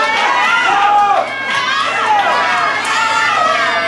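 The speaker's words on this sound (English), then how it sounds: "This crowd's chanting Scotty's name" A wrestling crowd at a Mid-Atlantic show chanting a wrestler's name, a loud continuous roar of voices with rhythmic shouts, filling the space throughout.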